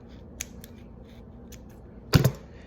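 Scissors snip through yarn for handmade loop tassel earrings in a single crisp, close double-clack cut after a short quiet pause with faint ticks.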